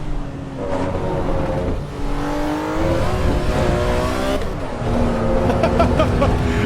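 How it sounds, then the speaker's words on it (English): A road car engine driving on a racetrack in the Assetto Corsa EVO racing game, with steady engine drone and rising, shifting revs throughout, loud and close. "This feels like a proper road car driving on a racetrack."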